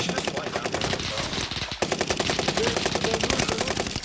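Rapid automatic gunfire in Call of Duty: Modern Warfare, dense sustained bursts of machine-gun fire rattling loudly with brief pauses, close and continuous throughout.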